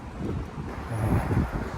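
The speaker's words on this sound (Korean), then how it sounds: "바람이 아까보다 조금씩 더 불기 시작하더니 바람이 세졌어요" Strong wind blows outdoors along a riverside walking path as a heavy rainy-season front moves in, a steady broadband rush with gusts swelling and buffeting the microphone, no talking.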